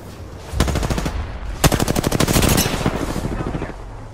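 Rapid bursts of automatic gunfire in the video game Apex Legends, a burst around half a second, a short pause, then a longer sustained volley with dense overlapping shots, loud and close.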